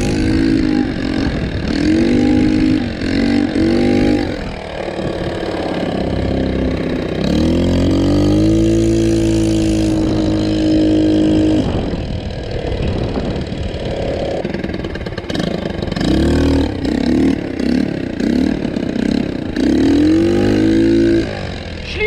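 A car engine revs and idles right after a carburetor swap, the pitch rising and falling in several loud, sustained pulls that stay near and steady from start to finish, with no talking.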